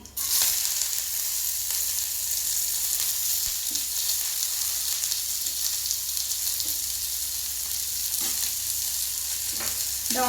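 Cut onions sauté in oil with popped mustard seeds and cumin for a tapioca adai, a steady close sizzle running without pause with occasional light stirring scrapes and no voices.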